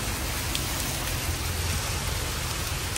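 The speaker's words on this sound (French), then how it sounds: "Il pleut dessus." Rain falls steadily outdoors, a constant even hiss of drops striking surfaces that fills the whole stretch with no voices.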